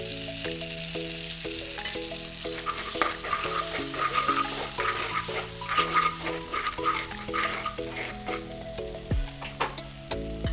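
Steady sizzling of vegetables frying in a pan, with a continuous crackle and occasional scraping stirs, alongside background music.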